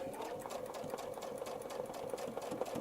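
Sewing machine stitching lines across a miniature feathered Baptist fan quilt block, a steady fast mechanical whir with a continuous even rhythm, close and fairly quiet, with no talking.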